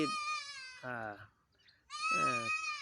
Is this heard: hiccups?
no